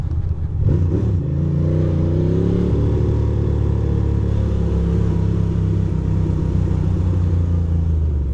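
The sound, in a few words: truck engine rumbling on the road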